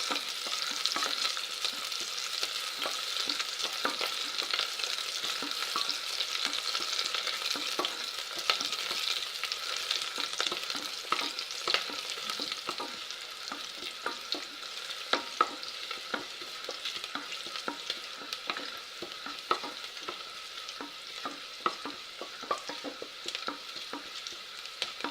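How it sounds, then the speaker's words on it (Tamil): Onions frying in a pan while being stirred, for capsicum rice, with a steady close sizzle and repeated scraping stir strokes running throughout, no talking. "வெங்காயம் கொஞ்சம் ப்ரௌனிஷ் ஆகட்டுங்க."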